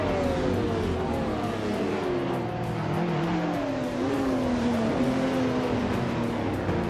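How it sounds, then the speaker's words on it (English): Engine of a 1998 Mercedes-Benz CLK GT1 race car in a racing video game, revving and shifting with pitch sweeping down and back up, steady and fairly loud with no voices. "Shran is starting on pole, zooming in that classic 1998 Mercedes-Benz CLK GT1"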